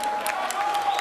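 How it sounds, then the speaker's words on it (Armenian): Applause from a wedding audience, a dense, steady patter of many hands clapping close by for about a second, with a faint voice or tone running underneath. "ծափը արում ենք շատ բարձր"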